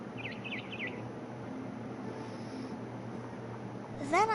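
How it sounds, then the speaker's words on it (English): A barn swallow chirps outside a window in the video game What Remains of Edith Finch, giving a few quick, faint twittering calls at the start over a low ambient hum, then a brighter rising call near the end. "Then I heard chirping outside my window. It was a barn swallow going back to her nest."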